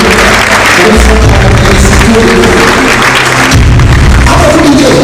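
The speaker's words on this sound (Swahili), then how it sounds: "Tupigie makofi mazuri." An audience at a Mt. Kenya University event applauds to welcome a speaker to the stage, loud dense clapping that swells across the whole span, with a brief dip and a renewed burst near the end.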